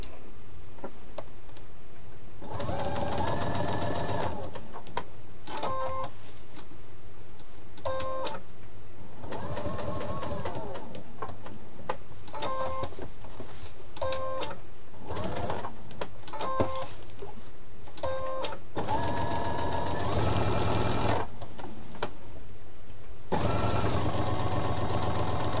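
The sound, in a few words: electronic sewing machine stitching a fabric appliqué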